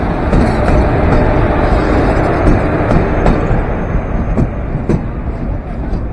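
Konkan Kanya Express train pulling into a station, a loud continuous rumble of wheels and carriages with faint clicks of rail joints.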